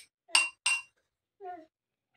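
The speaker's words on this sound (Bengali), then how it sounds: "জল গুলোচ্ছ, কি করো জল গুলিয়ে" A child stirs water in a glass, giving two sharp close clinks in quick succession, followed by a brief softer tonal sound.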